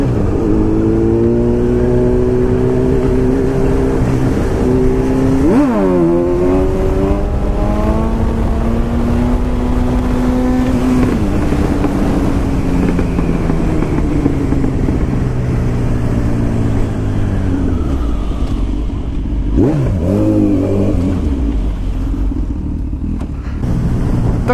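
Honda CB1000 Repsol motorcycle engine on a test ride, loud and close, rising and falling through revs and gear changes with sharp throttle blips around the middle and end, steady road noise beneath.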